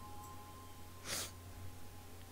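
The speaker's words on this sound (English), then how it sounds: "I've sneezed." A single short, sharp sneeze bursts out at close range over a quiet room hum, with a faint breath just before it.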